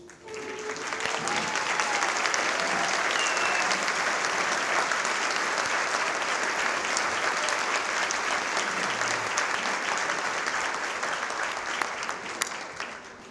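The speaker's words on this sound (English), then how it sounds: "a big round of applause" Luncheon audience giving a big round of applause to board members standing to be acknowledged, a broad, sustained crowd applause that swells quickly and holds steady for over ten seconds before tapering.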